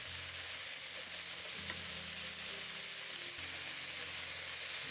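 Ground beef flatbreads for a shortcut lahmajoun fry in a pan, giving a steady, close sizzle with a low hum underneath and no talk.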